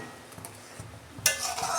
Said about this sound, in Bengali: দেখুন ঢাকনাটা আমি খুলছি